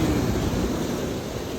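Large ocean waves break on the Cape Breton coast of Nova Scotia, a dense, continuous roar of surf with wind rumble, loud and close, no voices.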